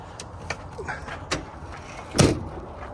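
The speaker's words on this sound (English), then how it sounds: "typical Kenworth doors. They wear out" Kenworth truck door with worn edges being pulled shut, a few small clicks and rattles, then one solid thump near the end, close by and moderately loud.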